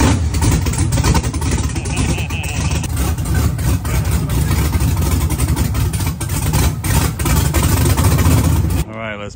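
A motor engine runs loud and close, a steady rough rumble with slight surges that holds throughout before stopping just before the end.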